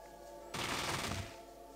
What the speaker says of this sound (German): hat er nicht mit seiner Uzi rumgeballert